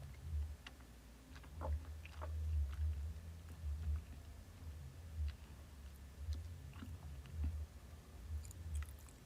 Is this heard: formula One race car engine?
no